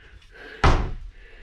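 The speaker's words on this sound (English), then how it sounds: "Full extension ball bearing drawers." A full extension ball bearing drawer in a tiny house linen cabinet closes with a single loud thud near the middle, and a second impact starts right at the end.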